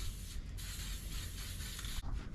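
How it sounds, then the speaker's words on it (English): Spray lacquer hissing out of an aerosol can onto a wood carving in a continuous faint spray, with a brief break near the end. "you take some spray lacquer and you do the same thing."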